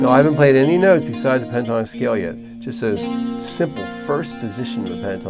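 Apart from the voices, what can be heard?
No everyday noises stand out.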